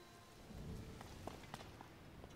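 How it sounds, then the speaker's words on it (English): Thunderstorm rain in the Zelda Tears of the Kingdom video game, quiet steady rainfall pattering on surfaces with a few scattered drop hits and no thunder clap. "It's a thunderstorm."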